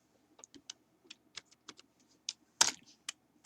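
Someone types R code on a computer keyboard, a quick uneven run of soft, close keystrokes with one sharper key hit near the end and no talking.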